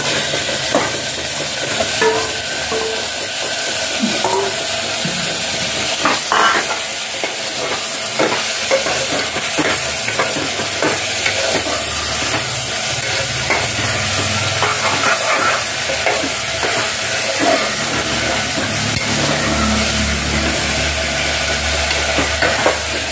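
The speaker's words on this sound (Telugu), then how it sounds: "ఉప్పు పసుపు వేసి కడుగు పెట్టుకుని మాసాన్ని వేసుకుంటున్నాం." Mutton pieces fry in plenty of oil with salt and turmeric in a pan for mutton curry, giving a loud, steady sizzle throughout with frequent scraping and stirring clatters, and no voices.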